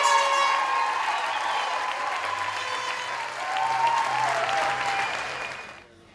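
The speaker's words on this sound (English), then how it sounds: "Let's give everyone a huge round of applause for the graduating class of 2008." Applause for a graduating class at a university commencement ceremony: sustained, loud clapping with some cheering, swelling briefly again before fading out near the end.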